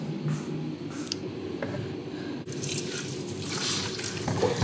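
Water runs and splashes into a bowl of large chicken leg pieces set to soak, a continuous close trickle that grows fuller and louder toward the end, with no voices.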